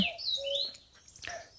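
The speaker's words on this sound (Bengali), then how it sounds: "চারদিকে শুধু পাখির ডাক" Birds chirp and call around a quiet, secluded wooden homestay high in Upper Rishop, with a few clear, sweeping tweets close by over soft background hush.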